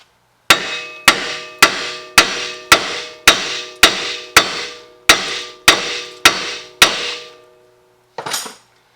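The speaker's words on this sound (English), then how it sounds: "But I'm going to hammer this out." A hammer strikes the lower ball joint on a Nissan Pathfinder during a ball joint replacement, landing about a dozen loud, ringing metallic blows at a steady rhythm, with a shorter scraping clank at the end.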